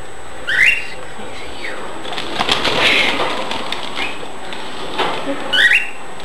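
Pigeon cooing in bursts near the start and end, with faint flapping and rustling between, heard at moderate distance in a small animal care setting.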